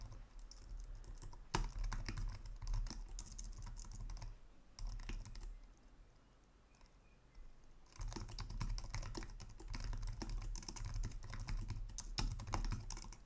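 Fast typing on a computer keyboard while code is written, a dense run of close key clicks that pauses for a few seconds in the middle and then resumes just as quickly, with no talking.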